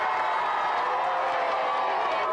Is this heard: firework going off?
no